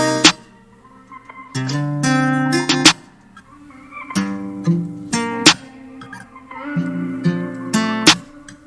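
A guitar-based trap beat built in FL Studio 20, with a crisp snare cracking at a steady slow interval of about every 1.3 seconds over sustained, plucked guitar chords, with no talking.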